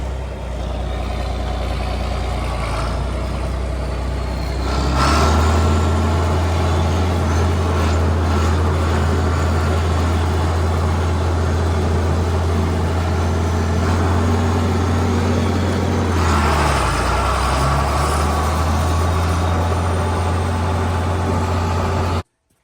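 A John Deere 4320 tractor engine runs steadily, a loud, continuous low diesel rumble with a brief surge in revving near the middle and no talking.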